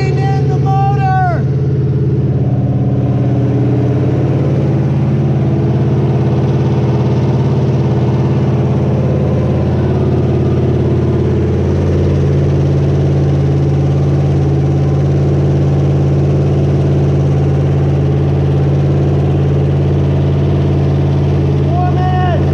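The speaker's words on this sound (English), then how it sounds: "We're breaking in the motor!" Internal combustion motor running steadily during break-in, a loud, close, continuous drone that shifts to a slightly different pitch partway through, with a voice heard briefly at the start and end.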